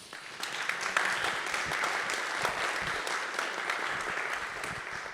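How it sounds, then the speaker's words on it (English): Audience at a recovery ministry panel discussion giving a round of applause, sustained, even clapping from many hands that holds steady throughout, with no talk on top. "Another round of applause, please."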